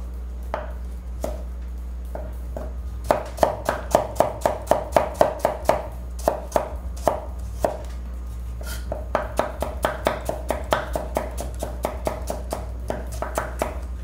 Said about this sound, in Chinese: 红萝卜切片